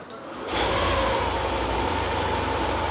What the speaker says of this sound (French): et le moteur est démarré